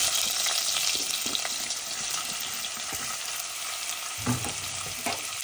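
Potatoes fry in oil with golden-browned onions, making a constant dense sizzle with soft stirring clatter and a few louder scrapes near the end.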